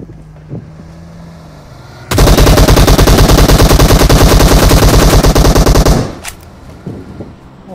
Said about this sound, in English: Oh shit, people shooting me.